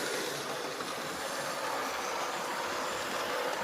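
A Hornby R2203 Kingfisher OO gauge model locomotive runs into a tunnel, giving a steady, faint whirring rumble of motor and wheels on track throughout, with no talk.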